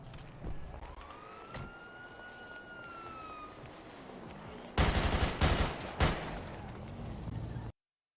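GTA RP gunshots break out after a wailing police siren, with a loud cluster of sharp close shots and several more cracks before the sound cuts off abruptly.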